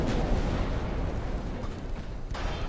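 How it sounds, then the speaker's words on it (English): A torpedo striking a warship in Ultimate Admiral Dreadnoughts, a deep rumbling explosion that rolls on loudly for a few seconds with a second thud toward the end. "Torpedo hit."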